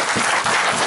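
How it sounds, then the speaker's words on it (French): A church congregation bursts into dense, loud applause, a steady wash of many hands clapping close by with no speech over it. "Donnons une acclamation."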